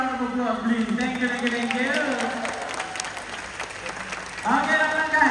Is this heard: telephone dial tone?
no